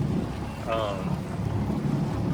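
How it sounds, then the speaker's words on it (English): Wind buffets across open water aboard a Carolina Skiff J14, a steady rumbling gust noise with water and engine wash underneath, broken by a short whistle-like tone partway through. "The wind feels pretty good."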